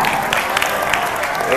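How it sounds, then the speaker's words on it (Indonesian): An audience at a reading and writing workshop breaks into applause, a dense wash of clapping heard close and filling the short moment. "Tepuk tangan untuk al-irsyad."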